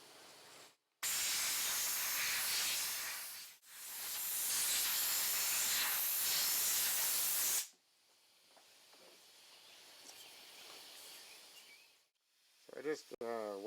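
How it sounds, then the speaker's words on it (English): A compressed-air hose blasts dirt out of the upper strut mount area of a 2008 Chevrolet Malibu, two loud sustained hissing bursts followed by quieter rustling, clicks and a brief rising squeal near the end. "just blow the rest out with the air hose"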